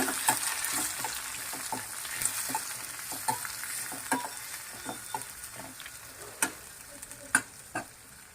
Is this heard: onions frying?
yes